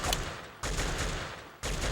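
Sustained gunfire in a street firefight in an Xbox video game: dense, rapid bursts that start and stop abruptly in two or three blocks, fairly faint and without voices.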